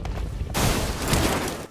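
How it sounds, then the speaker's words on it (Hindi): Video game gunfire rings out from across a road, a burst of loud rattling shots starting suddenly and continuing for about a second, fairly close and without talk. "अब सड़क के उस पार से गोली चली थी"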